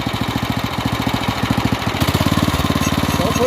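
An off-road kart engine with a dirty or lean carburetor runs nearby with a loud, rapid, pulsing putter. The firing rhythm is slightly uneven and surges a little partway through, with no voices.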